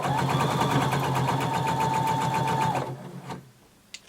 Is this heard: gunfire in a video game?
no